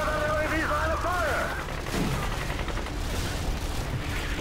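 Gunfire in the video game Call of Duty Modern Warfare 2, a few sharp bursts of shots and crackling over dense battle noise, with someone talking over it at the start.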